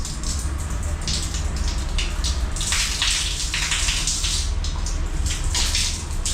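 Water runs steadily from a tap in Mombasa, Kenya, a continuous close splashing hiss with bursts of heavier flow, no talk.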